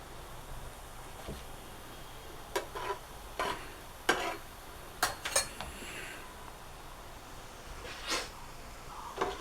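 Boondi batter drops fry in hot oil with a soft continuous sizzle, while a utensil stirs and turns them, giving several sharp scraping clinks against the pan.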